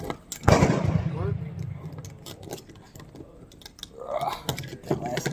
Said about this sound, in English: So we'll shoot their handgun ammunition.